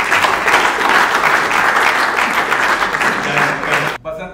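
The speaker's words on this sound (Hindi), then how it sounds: "तो सब ताली बजा दो।" An audience at a poetry festival at IIT Kanpur claps loudly and steadily for about four seconds, then the applause cuts off abruptly into a brief quiet tail.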